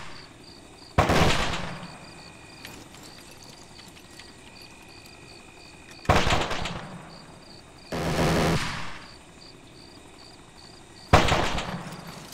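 Distant gunfire in the military game Arma 3: four separate bursts of shots, each about a second long, spaced across a quiet background with a faint steady hum.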